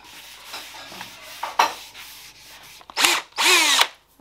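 A power drill bores holes in wood for an upcycling project. Short bursts of grinding and rubbing are followed by two loud, close drill runs whose pitch winds up and then drops as the bit bites in.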